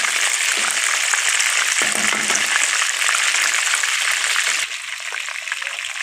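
Chicken pieces fry in hot oil until golden, giving a steady, bright sizzle with small crackles that stays even throughout and eases slightly near the end.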